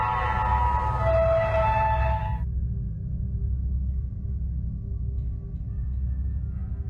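A horn-like siren blares from outside in a horror-story scene, a loud wavering wail that holds for a couple of seconds and then cuts off, leaving a steady low rumbling drone, with no voices.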